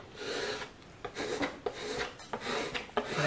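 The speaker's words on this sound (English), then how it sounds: "They call this burnishing." Tape pressed and rubbed down onto a painted wooden barn quilt board for a hummingbird design, making repeated raspy scrubbing strokes in short bursts, fairly close and moderately loud, with no talking.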